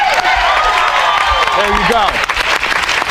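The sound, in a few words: applause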